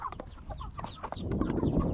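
Chickens cluck and call in a field at feeding time on farmland, a busy flock of several hens chattering in short overlapping bursts close by, with a rising rustle of movement underneath.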